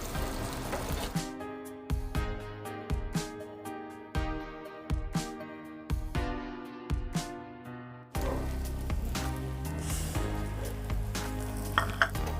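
Bottle gourd pancakes fry in oil on a griddle over lowered gas heat, a close, steady sizzle broken by a run of rhythmic scraping or stirring bursts before the frying settles into a continuous crackle.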